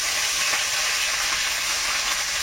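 Chopped garlic frying in a little oil in a wok for a Bengali pumpkin curry, a steady close bright sizzle and hiss running unbroken throughout, with no talk.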